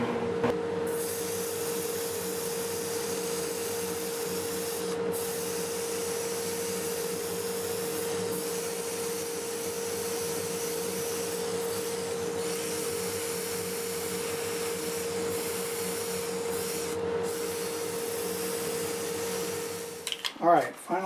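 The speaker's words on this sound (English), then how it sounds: "This is the noisy one, the dust collector." A loud, steady mechanical roar with a constant tonal hum runs without pause, a large dust collector motor droning nearby in a woodturning workshop.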